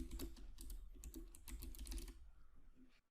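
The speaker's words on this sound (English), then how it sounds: "We can select the middle section and start typing." Rapid keystrokes clatter on a computer keyboard, close and crisp, in quick irregular bursts for about two seconds before stopping into quiet.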